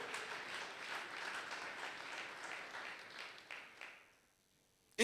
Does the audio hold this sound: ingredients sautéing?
no